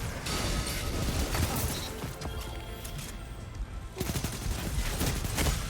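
SMG gunfire in a video game rattles out in loud rapid bursts with crashing impacts, easing off briefly midway before another dense volley.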